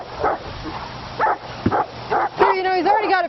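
A dog during leash training gives short yips and barks, then whimpers in a rising, whining pitch near the end. Someone speaks over it at close range.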